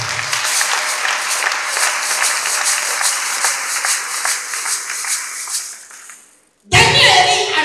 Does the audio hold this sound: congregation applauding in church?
yes